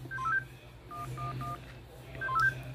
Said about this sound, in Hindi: इसके पास फोन है तो ये किसी को फोन करके तो बुला सकता है आराम से।